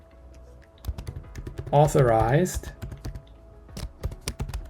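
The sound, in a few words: typing a command on a computer keyboard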